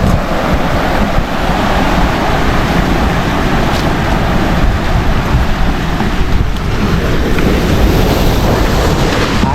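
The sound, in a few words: strong ocean waves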